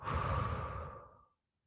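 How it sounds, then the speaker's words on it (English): A single deep breath in and out, close and fairly soft, a long airy exhale that fades to silence after about a second, with no talking. "Take a deep breath in. Take a deep breath out."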